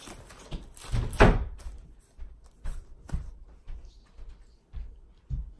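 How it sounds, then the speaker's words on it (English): A household door pushed shut by a child, heard as one loud thump near the start and a few softer knocks and bumps after it, with no talk. "Can you go shut the door, buddy?"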